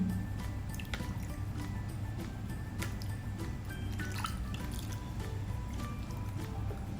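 Water splashing and dripping as a small pet monkey's neck and mouth are washed during bath time, soft close drips and wet squishes over a low steady background hum.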